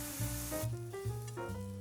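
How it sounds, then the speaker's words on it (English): Green onions sizzle in a little oil in a frying pan, a steady bright hiss that is strongest at the start, with tuneful background music playing underneath. "In a frying pan, grill the green onions with a little oil"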